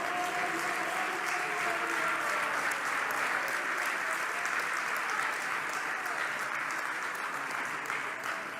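A church congregation applauds steadily for several seconds, a dense and even clatter of many hands with faint voices mixed in.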